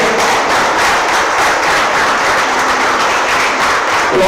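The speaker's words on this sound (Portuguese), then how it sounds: "Vamos aplaudir nosso Deus" A church congregation applauding God, a dense, loud, continuous wash of clapping filling the room without a break.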